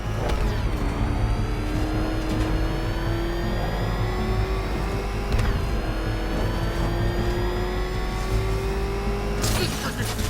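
Car engine in Batman: Arkham Knight, driving through Gotham with a steady rising drone and low rumble, an occasional rev swell and faint tire noise, heard alone and loud throughout.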